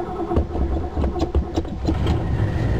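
An engine that has sat unused for a while cranks and fires up after its fuel is pumped. It runs rough and loud, with uneven sputtering bursts and no voices.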